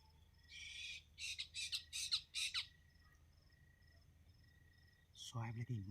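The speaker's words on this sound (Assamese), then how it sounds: "চৰাইবোৰ চাওকচোন কেনেকৈ কান্দি আছে" Birds squawking at night near a field hut, a burst of harsh rapid calls followed by a later squawk, over a steady chorus of crickets and insects in a quiet rural setting.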